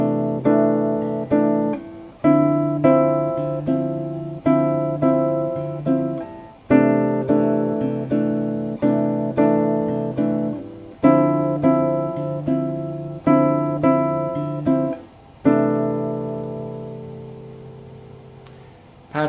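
Nylon-toned guitar plays a bossa nova rhythm pattern, deep bass notes alternating with syncopated plucked chords in a steady repeating groove, close and alone, the last chord ringing out.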